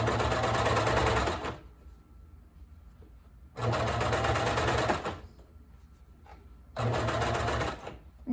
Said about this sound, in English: I slow down a little bit when I'm about to go over the bulky part of the seam